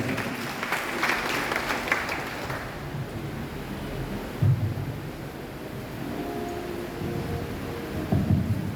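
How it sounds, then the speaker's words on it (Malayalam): Church congregation at St. Thomas Cathedral, Irinjalakuda, clapping to welcome a new trustee, a dense burst of applause at first that fades into a low murmur with a few thumps. "നമുക്ക് സ്നേഹത്തോടെ കൈയടിച്ചുകൊണ്ട് നമുക്ക് സ്വാഗതം ചെയ്യും"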